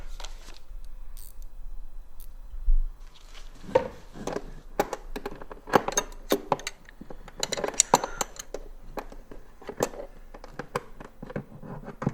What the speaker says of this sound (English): Get my wrench in there.